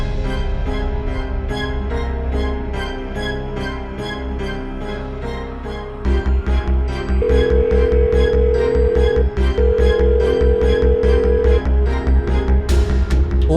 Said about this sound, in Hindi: फोन भी नहीं उठा रही है मेरा।